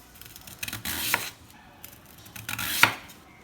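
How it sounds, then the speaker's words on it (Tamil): A knife slicing a plantain shoot (banana stem) into thin pieces on a board, a few crisp cuts spaced about a second apart, close and fairly loud with no talking. "இப்போ வந்து சின்ன சின்ன பீஸாக கட் பண்ணிவிட்டு"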